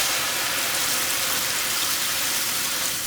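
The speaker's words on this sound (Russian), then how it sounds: "Дегласируем при жарке саке." Sake deglazing a hot frying pan after pork has been browned, a loud, even hissing rush of steam and bubbling liquid that fills the whole moment without a break, close up and alone.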